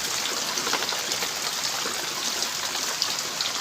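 Heavy rain pours down steadily outdoors as the wind picks up and water rises, a dense continuous hiss with scattered drops and trickling, no voices.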